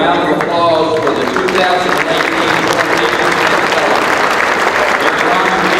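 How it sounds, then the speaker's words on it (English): Dense, loud applause from a large dinner audience at a 2018 General H.M. Smith dinner. Many hands blur into a continuous roar that holds steady throughout, with crowd voices mixed in. "please join me in a round of applause for the 2018"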